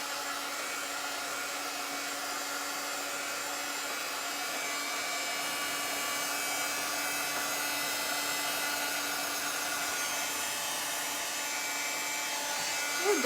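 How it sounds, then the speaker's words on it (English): A heat gun blows continuously to dry craft pieces, a steady loud whooshing whine that stays even, close up and alone for the whole stretch. "I'm gonna run my dryer over them real quick, so pardon the noise"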